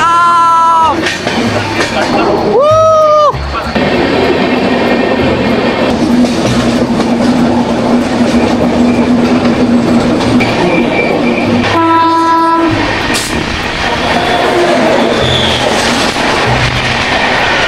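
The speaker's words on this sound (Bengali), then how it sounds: "ও ট্রেন দেখুন সাপের মতন বেগে যাচ্ছে, দেখুন দেখুন।" Train running on a curve through jungle, loud and close with steady rumble and clatter of wagons, a horn sounding several times in long blasts, and people talking over the noise.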